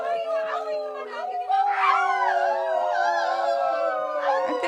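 A human voice imitates dogs howling in a long, wavering howl. Other voices join with overlapping howls, forming a loud group chorus that swells and falls.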